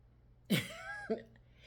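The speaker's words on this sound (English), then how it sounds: "people go cough around me" A single sharp cough, close and brief, followed by a short throat-clearing sound, then quiet.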